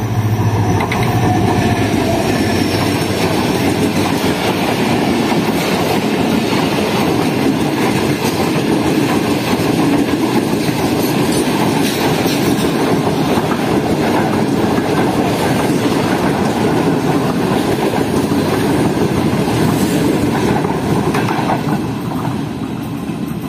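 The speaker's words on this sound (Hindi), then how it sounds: "ट्रेन काफ़ी अच्छी स्पीड में है" A freight train passes at speed during heavy rain with a thunderstorm, giving a loud, continuous rumble and rhythmic clickety-clack of wagons on the rails throughout, without speech.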